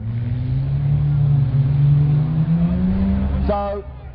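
Race cars at Mildenhall, engines roaring steadily and close with a rising whine near the end, under an announcer's loud race commentary.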